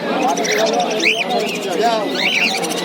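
Pigeons at a pigeon market cooing close by in overlapping soft rolling calls with a few sharper chirps, under a steady crowd murmur and someone talking.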